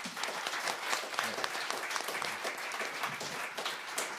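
A hall audience at the KMI Summit panel discussion applauds a Washington University guest with a big round of dense, even clapping, moderately distant and unbroken throughout.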